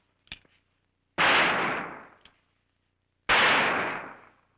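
Two loud, sharp gunshots ring out close by, each a sudden blast with a long decaying tail, separated by about two seconds of silence, preceded by a couple of faint clicks, in an experiment behind a sloth.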